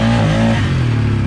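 A motorcycle engine revs hard, then its pitch falls away and it sputters unevenly, close and loud.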